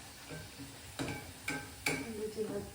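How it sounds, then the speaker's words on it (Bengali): Luchi frying in a small amount of oil, a soft bubbling sizzle punctuated by three sharp clacks of a utensil against the pan, with a voice murmuring faintly underneath. "লুচি ভাজছি, খুব কম তেলেই ভাজবো।"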